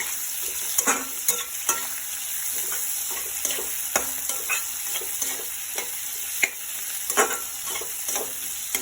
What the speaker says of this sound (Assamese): আলুখিনি আমি ধুনীয়াকৈ ভাজি লওঁ।